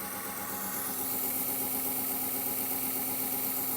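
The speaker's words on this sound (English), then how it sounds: "Let's take it up to 1500. With a vibration, don't know what that's all about." An engine runs steadily at about 1500 rpm with a noticeable vibration, producing a continuous close hum with a rough, buzzing undertone and no speech.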